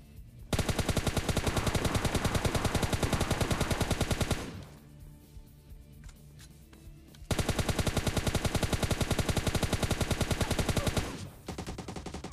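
Long sprays of automatic gunfire in PUBG Mobile Lite, loud and rapid. Two sustained bursts are split by a quieter gap with scattered shots, and a shorter burst comes at the end.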